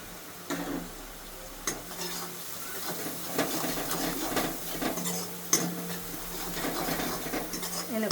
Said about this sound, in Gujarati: એને ખૂબ આપણે હલાવી લેશું.